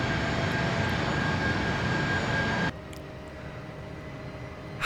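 Embraer 175 jet engines in the X-Plane flight simulator, a steady broadband roar with a faint high whine that suddenly drops to a quieter, duller hum partway through.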